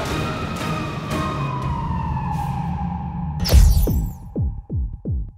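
A fire engine siren near the Mont-Blanc tunnel at Chamonix wails in a long, slowly falling tone, then a loud burst and several short descending whoops follow, close and prominent, with no talk.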